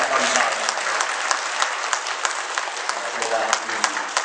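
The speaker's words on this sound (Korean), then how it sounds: "우리 모두 한번 박수로 하나님께 영광을 돌립니다" A church congregation applauds together, a dense, continuous clatter of many hands clapping at close range with a few sharper claps standing out, lasting the whole few seconds.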